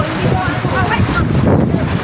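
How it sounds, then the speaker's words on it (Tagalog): Strong sea waves wash in on a beach under steady, blustery wind that buffets the microphone, a continuous close rush of surf and gusts, with faint voices in the background. "Kasi malakas yung alon eh."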